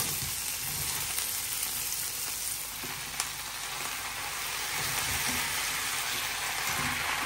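Malabar spinach leaves hit a hot frying pan and set off a steady, dense sizzle that continues evenly throughout, close and fairly loud, with a few small clicks and no talking.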